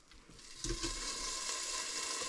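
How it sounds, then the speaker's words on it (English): Soft, continuous sizzling of BBQ-dusted chicken frying in a pan, a gentle crackling hiss that swells slightly after a brief shift near the start. "I love to hear that sizzle."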